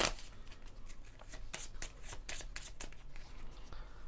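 A deck of game cards from the Monty Python and the Holy Grail collectible card game is shuffled by hand nearby, making a run of quick, papery riffles and flicks that repeat steadily and quietly without talk.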